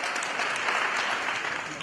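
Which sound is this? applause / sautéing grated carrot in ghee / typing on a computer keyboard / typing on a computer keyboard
applause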